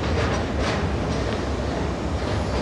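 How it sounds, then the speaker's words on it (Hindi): A train rolling past near a river, a steady, loud, close rumble of wheels and cars with a faint clattering texture throughout. "ट्रेन जा रही गाइस, ट्रेन देखिए आप लोग"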